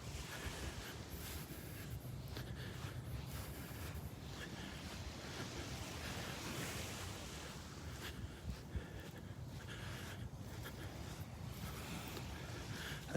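Beach surf at Delnor-Wiggins on a morning walk, with a constant low wash of waves and gusty wind rumbling over the microphone, faint and steady throughout.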